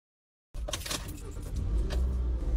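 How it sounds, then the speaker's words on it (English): A car starting up nearby: silence, then the engine catches and settles into a steady rumble that grows slightly louder, with a faint rattle at the start. "she turned the car on"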